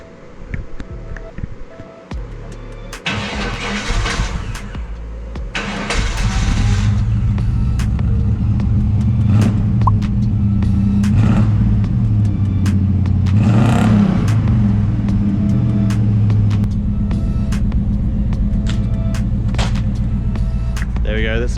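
A Chevrolet Suburban's engine idles with a rough, rumbling tone, then revs up in a few bursts before settling into a loud, steady drone; talking is heard early on and during the run.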